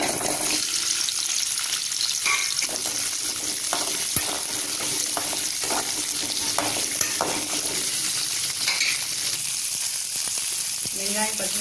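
Shallots, green chilies, ginger and garlic frying in a kadai give off a dense, steady sizzle up close, with scraping stirs and clinks breaking through at intervals and no voice over it.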